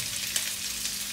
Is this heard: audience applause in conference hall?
no